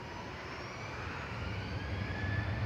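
Boeing 737-800 G-FDZY, a 12-year-old jet, taking off from Manchester for Heraklion: a steady broadband engine roar heard from a distance that swells slightly over a few seconds, with no voices.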